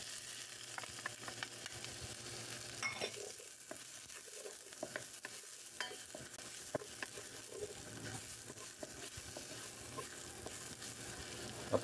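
Minced garlic sizzles in a pan for tahong guisado, a steady quiet frying hiss broken by scattered crackles and soft stirring scrapes, with no talking.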